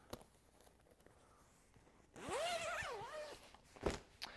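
The canopy zipper on an UPPAbaby Minu V2 lightweight travel stroller is drawn open in one quick, close rasping pull, followed by a soft click, in a quiet room.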